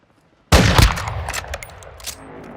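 Video game gunfire erupts after half a second of quiet, a loud burst of rapid shots that stays dense and then trails off over the next two seconds.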